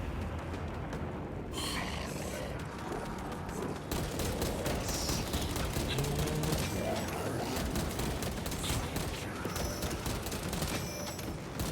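Continuous heavy bolter gunfire in a Warhammer video game, a dense fusillade of rapid booming shots rolling on for several seconds, loud and unbroken, with a brief voice in the mix.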